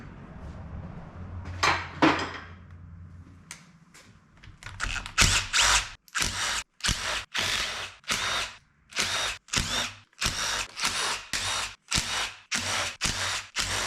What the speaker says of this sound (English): now I'm going to take the upper pan bolts off